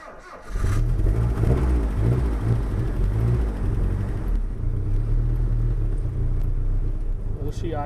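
A turbocharged car engine catches and roars into loud, steady revving that rumbles on for several seconds after a brief quiet start, with people talking over it.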